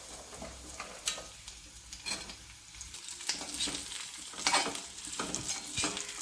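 Ivy gourd tossed into softened onions in a hot pan, frying with a steady quiet sizzle broken by scraping stir strokes and a few sharper clinks of a spoon against the pan.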